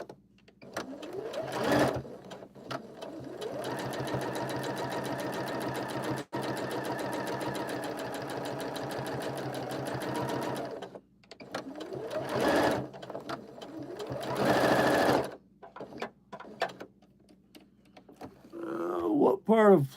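A sewing machine stitches a seam on a horror puppet, running in long whirring bursts with brief stops and restarts, loud and close, with some voice nearby.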